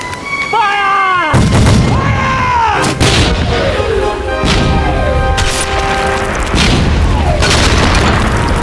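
A volley of gunfire on command aboard a ship at sea, heavy booming shots followed by further loud blasts and crashes, with raised voices among the noise.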